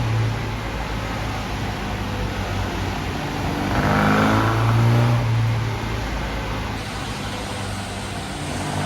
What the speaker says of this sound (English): while the car was being run up to temperature